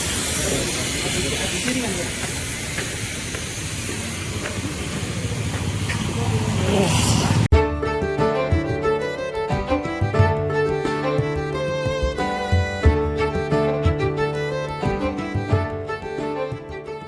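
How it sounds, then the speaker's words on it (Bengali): An old British-era Darjeeling toy train engine letting off a steady, close hiss of steam for about seven seconds before the sound cuts abruptly to music. "টয় ট্রেনের ইঞ্জিন।"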